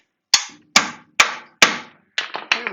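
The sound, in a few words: heavy hammer tapping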